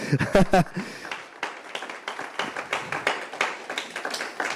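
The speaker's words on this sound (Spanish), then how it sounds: "Dale un fuerte aplauso a él, iglesia." Church congregation clapping, scattered and uneven, builds after a brief burst of voice at the start and continues at moderate loudness with irregular claps.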